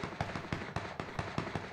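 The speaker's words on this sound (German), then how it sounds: "Aber vor uns explodieren Handgranaten" Hand grenades explode in the PUBG battle royale game, a rapid series of about eight muffled booming blasts at an even rhythm, each under a second apart, fairly loud and close.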